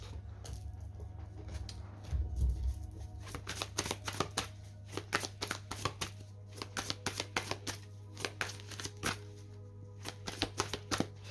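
Tarot cards being shuffled and cut, a quick run of crisp riffling slaps and flicks building into a steady, rhythmic burst of close, sharp card snaps over a low steady hum.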